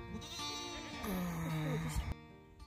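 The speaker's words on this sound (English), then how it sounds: "And she's a Nubian goat." A Nubian goat gives one drawn-out, wavering bleat, close and clear, that lasts about two seconds against a quiet background.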